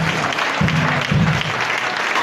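A church congregation claps in praise, a full roomful of hands in sustained, even applause with faint voices mixed underneath.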